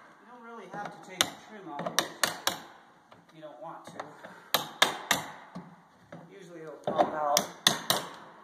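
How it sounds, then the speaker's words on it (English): A hammer strikes a small wooden block to pound out an interior door frame. Sharp, loud knocks come in quick clusters of two to four, with short pauses between them. "Take a little block and a hammer. Start pounding it out the other way."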